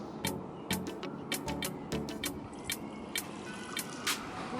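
Water drips and splashes irregularly from a homemade plastic bottle fountain, close and fairly quiet, with a string of crisp plinks over a soft liquid trickle.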